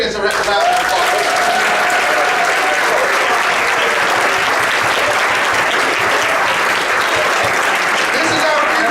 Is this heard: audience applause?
yes